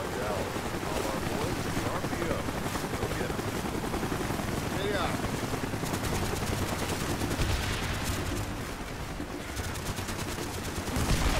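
Gunfire in the Call of Duty: Black Ops Vietnam escape mission, with continuous machine-gun bursts and rumbling engine noise in a dense, loud battle din, and voices speaking over it.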